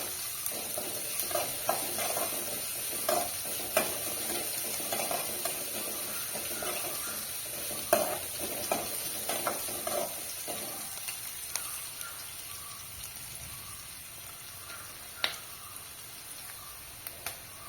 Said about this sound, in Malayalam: ഉള്ളിയെല്ലാം നല്ലതുപോലെ ഫ്രൈ ആയിട്ടുണ്ട്, ഒരു ഗോൾഡൻ കളറിലേക്ക് വന്നിട്ടുണ്ട്